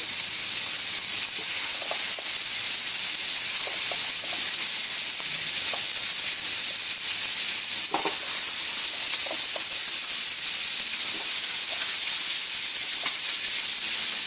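Kamote sweet potato frying in a centennial pan, a loud continuous hiss of sizzling oil that stays steady and close for the whole stretch, with faint clinks beneath.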